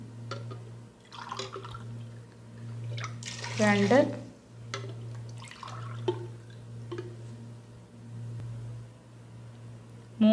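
Water is poured by the cupful into a pot of sambar in a home kitchen, a brief splashing pour around the middle under a speaking voice that counts along, with a steady low hum throughout.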